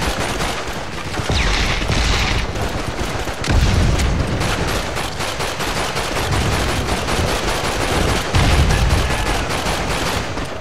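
Dense, sustained automatic gunfire in Call of Duty 2: Big Red One on PS2, rapid bursts and heavy booms overlapping loudly and continuously throughout, with no talking.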